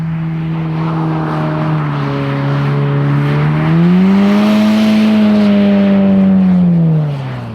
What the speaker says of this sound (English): Since this is a drifting review, we will start with exactly that as a short preview.